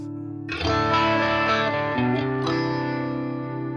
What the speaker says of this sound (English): This is definitely a chorus sound.